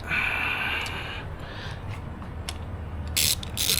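A 3/8-inch ratchet on an extension turns a bolt on a motorcycle, giving close, quick clicking bursts of the pawl with a few sharp metallic ticks and no talk.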